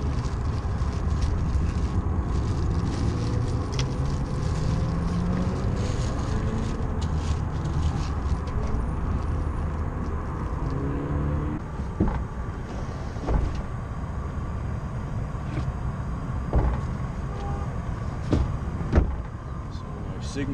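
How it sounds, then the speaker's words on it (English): Steady, loud wind roars across an outdoor urban campsite, buffeting the microphone continuously, with a few faint knocks and clicks near the end. "Wind is going to be a problem, so I'm going to stand as close as I can and block the wind."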